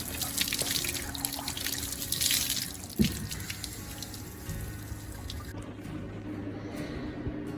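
Water runs steadily into the fresh tank of a 2022 Rockwood 2509S travel trailer, a close, continuous splashing trickle with dripping, then a sudden thump before the flow settles to a lower, quieter stream.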